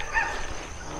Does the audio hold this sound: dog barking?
yes